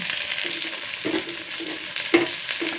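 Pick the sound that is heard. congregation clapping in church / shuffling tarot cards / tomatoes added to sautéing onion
tomatoes added to sautéing onion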